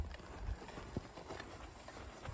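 Horse hooves clip-clop at a steady walking pace over a constant outdoor background rumble in the Frank Church Wilderness, with no voices.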